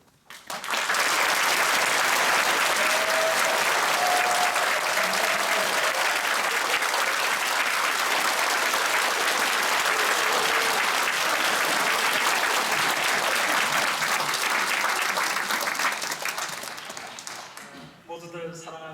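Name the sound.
church congregation triple applause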